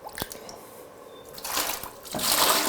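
Water splashes and trickles as sediment is rinsed from a whole-house water filter housing in a sink of warm water, with close drips followed by louder sloshing bursts.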